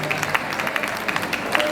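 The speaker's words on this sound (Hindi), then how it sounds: "एक बार जोरदार तालियों के बीच स्वागत करें" Audience applause at a Surango Rajasthan 2024 event welcoming a judge, a steady wash of clapping with scattered louder claps, moderately near and continuous through the short stretch.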